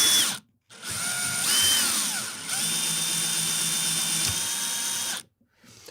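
Power drill boring through a wooden snare drum shell, guided by a jig clamped to the shell: a steady, close mechanical whine that runs for several seconds between brief pauses, with no voices.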